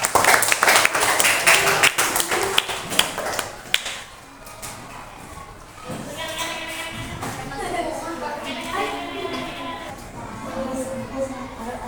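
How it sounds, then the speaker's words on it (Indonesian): A class of students applauds classmates called to the front, with dense clapping over the first few seconds that then fades under children's voices and chatter. "Beri tepuk tangan kepada teman kita."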